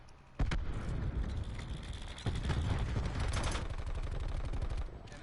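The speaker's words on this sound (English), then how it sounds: "Cluster grenade going out." In Black Ops 4, a thrown cluster grenade sets off a chain of sharp blasts amid rapid gunfire, loud and dense after a sudden onset, with a second burst midway.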